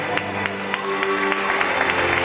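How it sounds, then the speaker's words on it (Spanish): A church audience claps for their pastor, steady and fairly loud, with a murmur of crowd voices under the clapping throughout. "den un fuerte aplauso a nuestra pastora"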